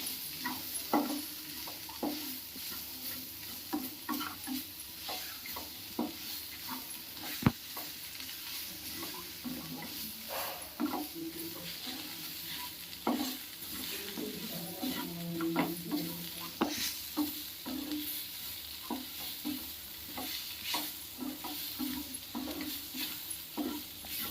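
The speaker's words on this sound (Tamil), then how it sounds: "புளி சேர்த்துருக்கனால நல்லா வதங்கிட்டு போட்டுட்டு ஆஃப் பண்ணிக்கலாம்." Curry leaves sautéing with tamarind in a pan for chutney, a quiet, steady sizzle with scattered scraping stirs and light clinks throughout, no voices.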